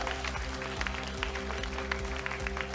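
Applause from the audience at a political party concert event, steady clapping over a continuous tonal music bed with low rhythmic pulses, moderately loud and without speech.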